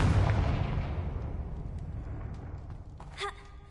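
A fiery Confringo blast spell in a Harry Potter video game, one heavy booming burst that rolls off into a long fading rumble, loud and close.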